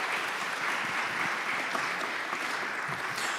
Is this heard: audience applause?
yes